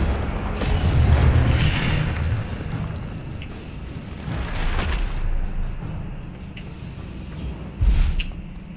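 A fire spell cast in the video game Hogwarts Legacy, a whooshing burst of flame with low rumbling booms and crackle, loud and swelling, then a second sharp flare near the end, with no talking.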